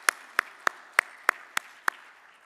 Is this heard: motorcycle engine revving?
no